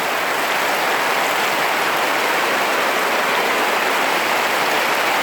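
Heavy rain falling in a constant, loud, broadband roar with no breaks, close and even throughout, no voices.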